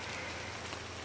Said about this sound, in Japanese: 雨がねすごい強くなってきてるんですよね